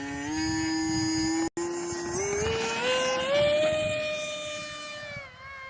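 The Aeroscout 1.1m RC model airplane's electric motor whines on takeoff, a steady rising tone that climbs in pitch after a brief dropout, then fades slightly as the plane moves away.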